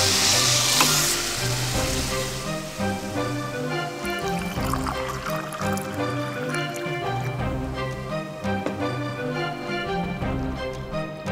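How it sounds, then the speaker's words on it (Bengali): Rice frying in a kadai for Bengali sweet basanti pulao as two cups of water go in and get stirred, making a loud sizzle that settles into rhythmic scraping, with no talk. "ভাজা হয়ে গেলে এতে 2 কাপ জল দিয়ে অল্প নাড়াচাড়া করতে হবে।"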